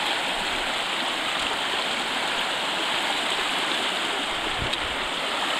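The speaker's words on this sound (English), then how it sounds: "And we have our first brook crossing." A mountain brook rushes across a hiking trail crossing, steady broadband water noise flowing close and continuous, with one brief tap partway through.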